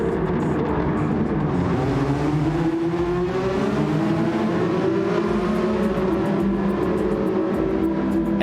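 A race car engine at Laguna Seca in a racing game drones loudly and steadily throughout, its pitch rising and falling through gear changes as it pushes across the finish line, with no speech over it.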